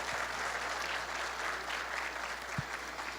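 An audience at an environmental education panel claps for the speakers, a dense, sustained round of applause filling the room at steady volume with no talking over it.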